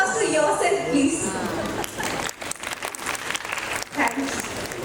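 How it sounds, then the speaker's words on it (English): Applause at a school annual function, a crowd clapping under lively chatter and a voice or music near the start, the clapping dense at first, then thinning and uneven. "Give a huge round of applause to yourself, please."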